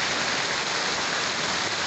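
Heavy rain pours down in Pernambuco, a dense, even hiss of downpour with no talking.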